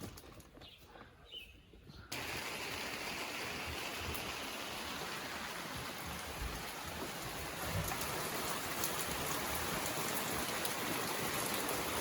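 Heavy rain pours in the Guatemalan mountains during the rainy season: a quiet start, then a sudden loud, dense, steady roar of falling rain that stays constant to the end.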